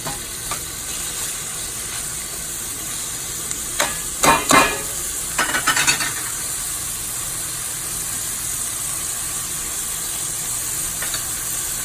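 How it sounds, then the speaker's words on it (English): Green beans and onions sizzle in a pan, a steady close frying hiss with a few sharp clatters and stirring scrapes near the middle, over a faint constant hum. "And you can hear this is about to sizzle."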